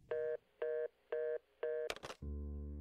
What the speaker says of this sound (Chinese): 颜良挂下电话后，整个人愣在了椅子里。